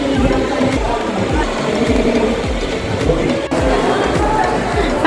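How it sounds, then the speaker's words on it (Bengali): Waiting on the Kalighat metro station platform, a steady rhythmic mechanical drone with repeating low pulses fills the space, loud and close, with a crowd murmuring underneath. "এখন ওয়েট করছি আমরা কালীঘাট মেট্রো স্টেশনে ট্রেন আসার অপেক্ষায় রয়েছি"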